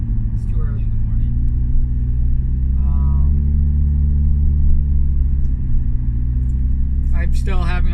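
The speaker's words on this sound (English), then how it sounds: "As you can hear, my muffler" A car with a failing, loud muffler gives a continuous deep, throaty rumble from inside the cabin throughout, with brief speech and a jingling sound near the end.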